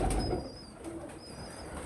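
Pigeons coo softly in a loft, low murmuring calls under a steady background hum, with a faint thin whistle drifting above.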